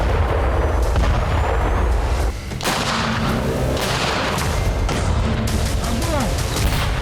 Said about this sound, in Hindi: डोनेस्क में रात के वक्त भी भारी गोलाबारी जारी है।